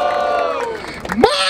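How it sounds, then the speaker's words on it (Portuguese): Crowd noise rising into cheering and whoops at a Brazilian freestyle rap battle in Barueri, a short burst that swells near the end over a host's voice. "Barulho para as rimas do Vini"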